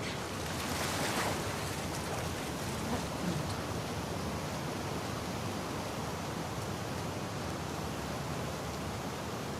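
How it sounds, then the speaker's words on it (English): Ocean waves in The Last of Us Part II video game wash in a continuous, dense roar of surf that stays steady throughout, with no voices. "swimming to the aquarium as Ellie, when you were avoiding the waves"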